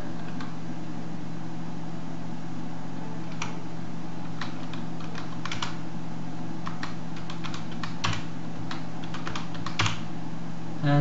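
Someone types a password on a computer keyboard during a software install, producing scattered, irregular key clicks over a low steady hum, with no talking.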